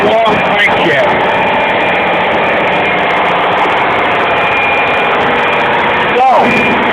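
Marine diesel engine on the Pacific Producer drones steadily and loudly in the enclosed engine room, a dense continuous running roar with no pauses.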